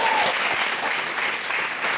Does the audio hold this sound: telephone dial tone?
no